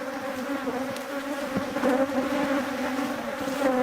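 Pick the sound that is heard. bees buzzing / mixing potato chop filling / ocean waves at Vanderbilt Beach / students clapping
bees buzzing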